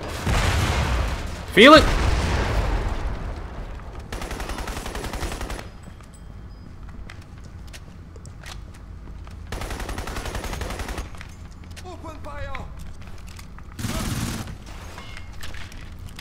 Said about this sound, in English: Nope, he's still shooting.